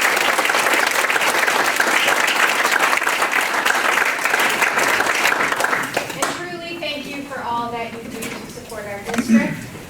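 A crowd at a school board meeting applauds loudly and steadily for about six seconds, then the clapping stops and a voice begins speaking.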